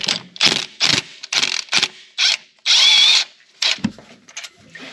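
Bolts come out of a Ford EcoBoost engine during turbo coolant leak repair: a loud, close power tool fires in short whirring bursts, with one longer spin and rattling metal clatter between them.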